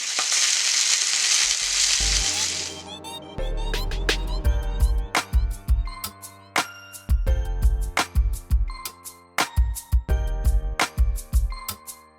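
Italian sausages sizzle in a pan, a bright steady frying hiss for the first few seconds before melodic music with plucked tones takes over and masks it.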